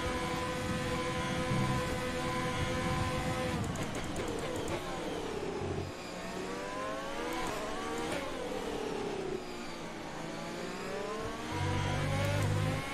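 Racing cars speed through F1 2020, the video game, their engines droning and rising and falling in pitch throughout, with shifting whines as they pass. A voice may speak faintly beneath the engine noise.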